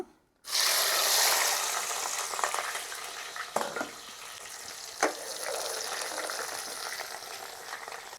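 Chopped onions sizzle loudly in hot oil with cumin and seasoning seeds, a dense, steady crackle that starts abruptly and continues, with a couple of stirring clatters along the way.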